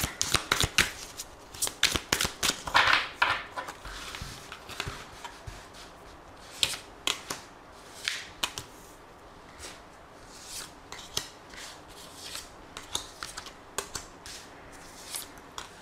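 Tarot cards being shuffled and drawn for a daily reading: repeated quick papery riffles and soft slaps of cards, close and fairly quiet, in bursts across the whole stretch with no talking.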